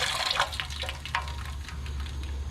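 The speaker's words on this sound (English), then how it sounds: "I'm gonna put just a little bit of water in." Water poured into a pot for steaming Maryland blue crabs, a soft splashing trickle with a few brief drips and splashes, fairly quiet, no talk.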